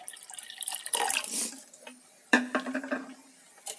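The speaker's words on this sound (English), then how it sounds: "So add around 3 cups of water" Around three cups of water pour from a tap into an electric kettle, in uneven splashing bursts with brief pauses and drips, close and moderately loud.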